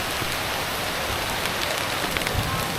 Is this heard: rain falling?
yes